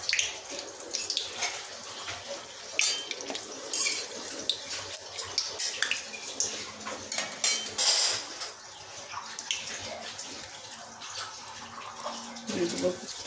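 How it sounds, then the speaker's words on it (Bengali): Bay leaves and dried red chillies are dropped into hot oil for tempering a country chicken curry, crackling and sizzling in uneven bursts, with a voice heard now and then. "দিয়ে দেব 2টো তেজপাতা, 2টো শুকনো লঙ্কা ফোড়নে"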